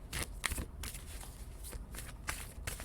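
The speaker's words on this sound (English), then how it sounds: "I'll shuffle a few more times here." Tarot cards being shuffled by hand, a run of soft papery riffles and slides repeating in short bursts, close and fairly quiet with no talking.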